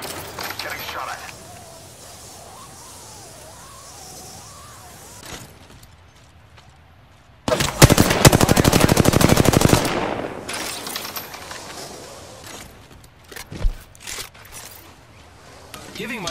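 In a video game, incoming gunfire erupts as a loud, dense burst of rapid shots lasting a couple of seconds, followed by scattered cracks, with quieter game sounds and talk before and after.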